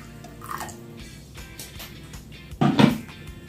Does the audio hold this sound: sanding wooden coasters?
no